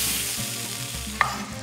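Onion and bell pepper sizzle steadily in a hot pan while a utensil stirs and scrapes through them, with one sharp clink near the end; no talking.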